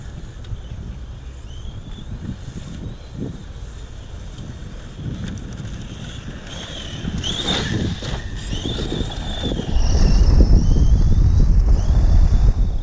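Wind buffets the microphone in gusts on a sandy site in Abidjan, growing louder and rougher toward the end, with faint higher whistling tones drifting through.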